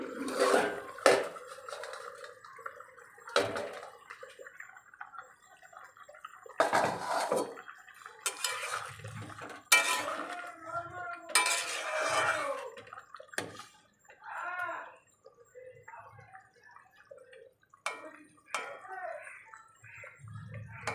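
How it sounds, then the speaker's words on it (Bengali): A lid is lifted off a pot of simmering green tomatoes, sharp metallic clanks and scrapes punctuating quiet bubbling and watery sloshing, with intermittent clatters spread across a fairly quiet kitchen. "এবার ঢাকনাটা তুলে নেব।"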